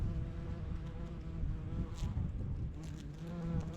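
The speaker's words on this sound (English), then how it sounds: "the bees are quite happy today, going around foraging there" Bees forage on heather in an open Scottish moorland, their buzzing a steady, fairly faint drone that hums continuously with slight swells, close by and alone without talk.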